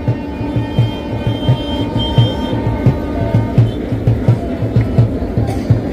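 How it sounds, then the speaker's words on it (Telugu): A train rumbles across a railway bridge, close and loud, its wheels beating a steady repeating clatter over the rail joints beneath a continuous low roar, with voices faintly audible in the background. "సౌండ్ వస్తుంది కానీ ట్రైన్ అయితే కనబడతలేదు."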